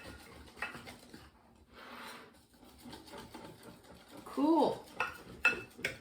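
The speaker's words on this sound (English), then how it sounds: "I'm just going to use a whisk for a little bit" A whisk stirs tea loaf batter with butter and currants in a bowl, making quiet, irregular clinks and scrapes against the bowl. A brief spoken word comes near the end.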